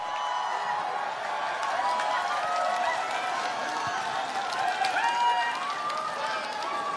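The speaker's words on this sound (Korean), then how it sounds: "뜨거운 박수로 환영해 주십시오." A political rally crowd in Busan's Seomyeon area applauds to welcome a lecturer to the stage. The clapping is dense, sustained and steady, with scattered cheers and whoops mixed in.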